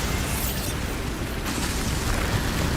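Bombarda spell blasts in Hogwarts Legacy, a dense continuous roar of explosive bursts and crackling debris with no pause, loud and close throughout.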